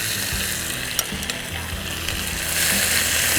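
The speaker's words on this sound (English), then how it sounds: "we will add our bison, which has been marinating" Marinated bison meat stir frying in a hot pan, a loud continuous sizzle with stirring scrapes that swells slightly louder near the end.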